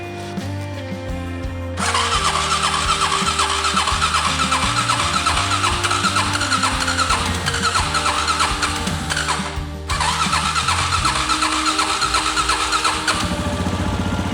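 A motorcycle engine cranks briefly, then catches and runs with a steady close putter, cuts out around the middle and restarts to idle again, loud and alone.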